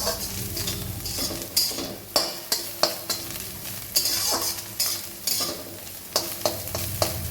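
Banana stem frying in a pan, with a steady close sizzle broken by regular scraping stirs of a spatula about every half second.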